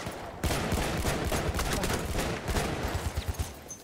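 Gunfire in the Battlefield 1 video game, a dense rapid volley of shots filling the clip, loud and continuous with a few separate cracks near the end.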